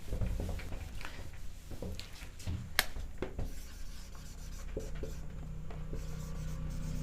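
Chalk or marker writing on a board during a lecture on magnetic particle testing, scratchy rubbing strokes and taps repeating unevenly over a low steady room hum.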